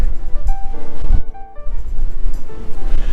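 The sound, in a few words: wind blowing on a cruise ship deck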